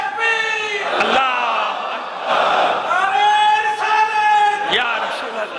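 A large crowd at a religious majlis gathering chants slogans in loud, drawn-out unison calls, several swelling waves of voices rising and falling with sharp percussive hits between them.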